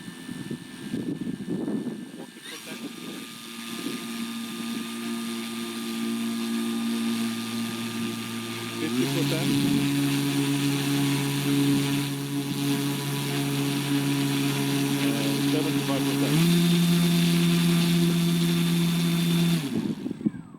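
A 5010 KV340 drone motor runs on a test stand at 30% throttle, giving a loud, steady electric whine with a hum that climbs in pitch in a few distinct steps.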